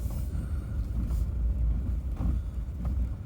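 Heavy early-morning road traffic before 7 a.m. at a packed spot, heard as a steady low rumble of passing cars and engines with no clear breaks.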